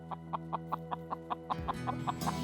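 A chicken clucks close by in a quick, even series of about a dozen short clucks, then rustling noise takes over.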